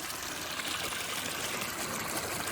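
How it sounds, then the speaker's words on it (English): Water runs steadily through a drainage channel in a flooded crawler yard, a continuous broad hiss and trickle that stays even and close throughout. "now the water's going around that drainage channel from here."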